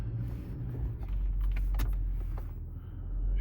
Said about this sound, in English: we are going to shift into drive